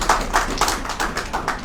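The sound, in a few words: congregation clapping hands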